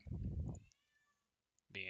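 A pet cat gives a loud, drawn-out meow near the start, followed by a quiet pause, then a second sharp meow at the end.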